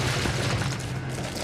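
A loud, sustained rumbling blast fills the whole clip, a dense roar of an explosion in the video game Void Bastards with crackling debris and no talk.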